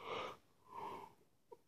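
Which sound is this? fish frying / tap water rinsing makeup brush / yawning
yawning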